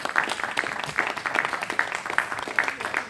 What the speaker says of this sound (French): un bel applaudissement pour vous, cher Moussa.